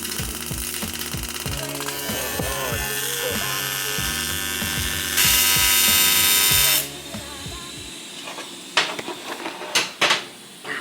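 Tack welding on aluminum: a loud, close burst of harsh arc hiss lasting about a second and a half, set over a steady rhythmic mechanical buzz, then a few scattered clanks and knocks.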